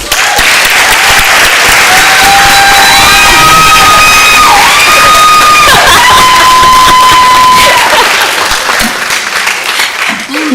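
An audience at a school board meeting breaks into loud applause, cheering and high whoops for a school Gold Star award winner, a sustained burst of clapping with excited voices that tapers slightly at the end.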